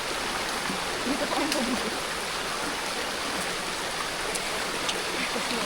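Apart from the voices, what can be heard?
river stream flowing near a waterfall on a hiking trail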